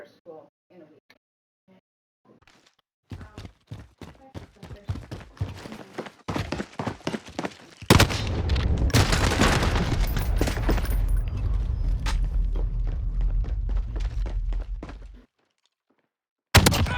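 A burst of gunfire from the Call of Duty Warzone video game rattles off, followed by a sustained loud rumble and noise. Someone talks over the shots at the start.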